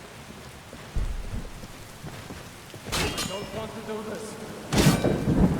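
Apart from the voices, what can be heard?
thunderstorm with heavy rain in video game Skyrim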